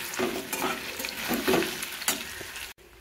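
Koftas made of chhana mixed with paneer sizzle as they fry in oil. The hissing is loud and continuous, with bursts as they are stirred, and it cuts off abruptly near the end.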